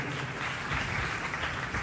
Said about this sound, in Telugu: చప్పట్లు కొట్టండి గట్టిగా.